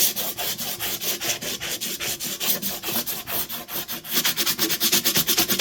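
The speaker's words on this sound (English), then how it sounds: "you're just going to go over it with the sanding block" A sanding block rubbing over dried Paint Couture embossing medium, rapid rhythmic back-and-forth rasping strokes, close and dry, with a slight pause midway before the strokes resume faster.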